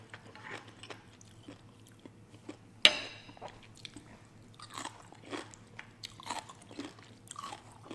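Crunchy kimchi is chewed close to the mic during a mukbang meal, with soft wet bites, one sharp crunch near the middle, and steady squishy mastication after it, with no talking.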